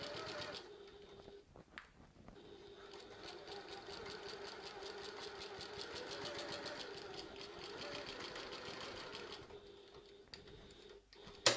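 A sewing machine backstitching a seam on a tote bag, running in a steady quick mechanical chatter of rapid needle strokes for several seconds before stopping, quiet and close.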